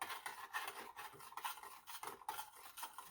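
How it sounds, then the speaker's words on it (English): A spoon scrapes and stirs through melted butter and seasoning in a bowl, producing quiet, rhythmic rasping strokes repeated several times, close and faint with no talking. "You can get a spoon, stir up the butter and the seasoning."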